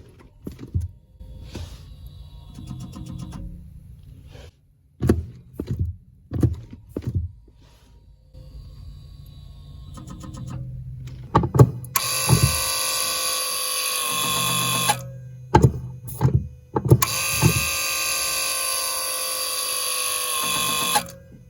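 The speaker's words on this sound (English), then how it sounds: "So I know it's leaking because I can actually hear it when I press my foot on the pedal." A Mitsubishi Montero's leaking brake booster accumulator makes short clicks and thumps as the brake pedal is pressed. Two long stretches of loud, steady electric whirring and hissing follow, broken by pauses, with no talking.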